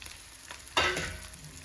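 Fish coated in Kashmiri chilli masala fries in a pan over a low flame. A soft hiss stays steady, then a louder sizzling burst starts partway through and eases off a little, with no voices.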